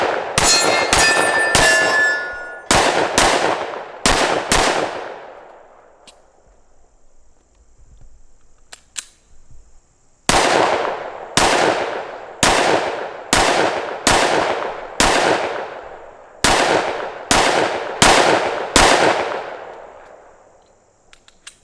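Shots from a Springfield XDM Elite Compact 10mm pistol strike steel targets, each hit a sharp ringing clang in quick bursts: a rapid string, a long pause, then two more evenly spaced volleys, loud and close with a fading metallic decay.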